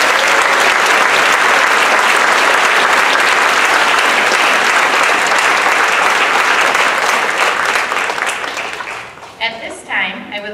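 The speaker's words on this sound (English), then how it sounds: "Let's give them a big round of applause." An audience at a fifth grade moving-up ceremony gives loud, sustained applause that fades near the end as a voice begins speaking.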